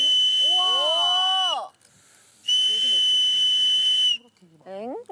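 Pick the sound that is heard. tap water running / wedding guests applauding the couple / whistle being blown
whistle being blown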